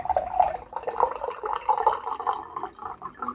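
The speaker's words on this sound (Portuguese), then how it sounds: "eu só peguei um pouquinho de água do filtro pra poder complementar" Filtered water poured from a water filter into a pot of already hot water for brewing tea, a steady trickling, splashing pour at close range, continuous for a few seconds with no talk.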